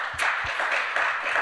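Applause from an audience greeting the speakers at an internet governance forum session, a short burst of steady, dense clapping that fills the moment, with a couple of low thumps near the start.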